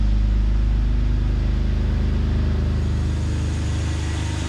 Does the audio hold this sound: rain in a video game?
no